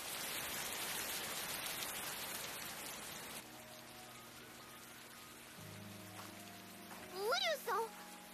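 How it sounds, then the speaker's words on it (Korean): Heavy anime-scene rain pours as a dense, steady hiss for the first few seconds, then drops to a quieter background wash beneath low tones and a brief voice near the end. "비가 미친 듯이 오기 시작했습니다."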